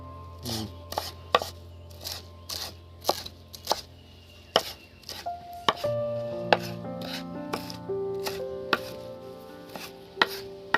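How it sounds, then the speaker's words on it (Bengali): Fresh coriander leaves being chopped with a knife on a board, a series of sharp, close, irregularly spaced chops about one per second, with faint kitchen hum underneath and no talk. "ধনে পাতা কেটে নেব"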